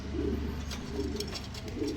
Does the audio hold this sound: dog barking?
no